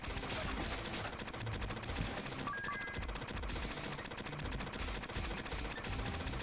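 Gunfire in the mobile roguelite Soul Knight rattles out as a steady, rapid stream of shots without pause, dense and continuous, mixed with game effects and sitting fairly low in level.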